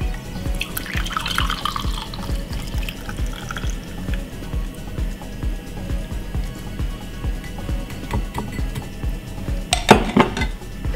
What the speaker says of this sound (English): pour my liquid,